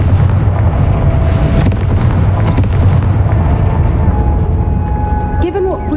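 A Confringo fire spell blasts in Hogwarts Legacy, a loud, dense booming explosion with rumbling low end that fills the whole stretch, fading slightly near the end as a voice speaks.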